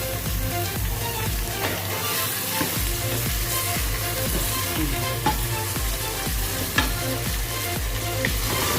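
Mutton pieces with onions frying in a pot, a loud continuous sizzle with regular scraping stirs and clinks of a spoon throughout.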